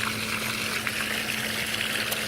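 An Intex pool water fountain runs steadily, a continuous wash of splashing water with a low hum underneath and no voices.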